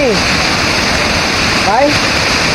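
A waterfall in Pernambuco gives a loud, steady broadband rush that never lets up, with brief voice-like sweeps above it near the start and again toward the end.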